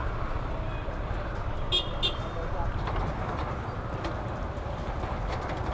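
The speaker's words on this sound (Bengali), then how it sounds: "এক জ্যাম থেকে বের হয়ে আমরা আবার আরেক জ্যামে পড়ি" Jammed road traffic heard from a motorbike on a morning ride: engines rumble steadily while a couple of short horn toots sound partway through, with a voice talking over the noise.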